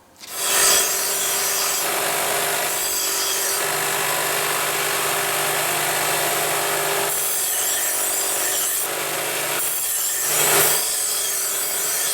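A grinder rasps steadily against the steel of a knife with a broken tip as it is reshaped, a loud continuous abrasive hiss running the whole time with slight shifts in tone.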